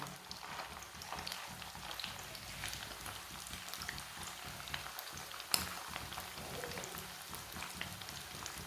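Chicken seekh kebabs sizzle in hot oil with a steady, dense crackle and hiss like light rain, plus scattered pops and one sharper spit midway, fairly quiet throughout.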